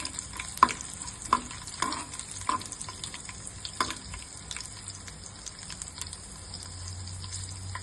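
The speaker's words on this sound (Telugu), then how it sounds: "ఫస్ట్ పోపు దినుసులను కొన్ని వెల్లుల్లి రబ్బలు వేసుకోవాలి. వేసుకొని అవి కొంచెం ఫ్రై అయిన తర్వాత" Tempering spices and garlic cloves fry in hot oil, a close steady sizzle punctuated by several sharp clinks and scrapes of a ladle stirring in the pan, with no talk.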